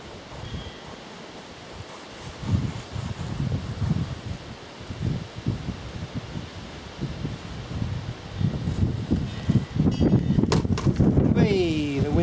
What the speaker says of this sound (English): the wind's got right up